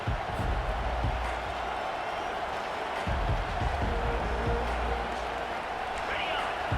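A dense stadium crowd roars and cheers steadily through a college football game between BYU and Utah, loud broadband noise sustained throughout with swells, a commentator's voice talking over it.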